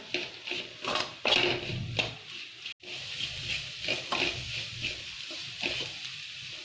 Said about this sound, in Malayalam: ഈ മല്ലിപ്പൊടിയുടെ പച്ച മണം പോകുന്നത് പോലെ നമ്മൾ ഇളക്കിക്കൊണ്ടിരിക്കുക